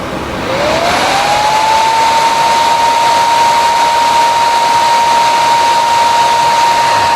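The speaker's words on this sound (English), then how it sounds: "this is what the fan will sound like when it's on full blast" A PS3 cooling fan spins up quickly to full speed, its whirring pitch rising then holding as a steady, loud whine with rushing air.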